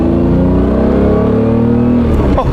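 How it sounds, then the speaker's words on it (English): 1990s Lamborghini Diablo engine accelerating, heard from close by: a loud, rising mechanical roar with strong harmonic drone that climbs steadily in pitch, then briefly dips near the end. "you feel that engine when you accelerate"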